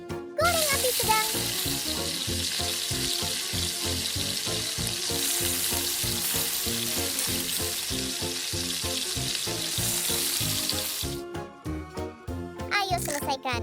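Octopus coated in Cheetos crumbs, flour and egg sizzles in oil over medium heat, a bright continuous crackle of frying that fills the clip, with background music and occasional stirring clinks.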